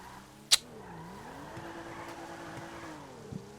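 A car's engine hums steadily while driving in GTA 5 Online, with a sharp impact-like click early on and another small knock near the end, no talk.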